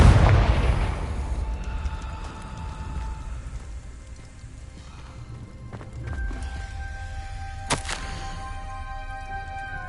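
A Confringo blasting spell explodes in Hogwarts Legacy on hard mode: a loud burst opens, fading into crackling debris, with sharper bangs and ringing tones following a few seconds later.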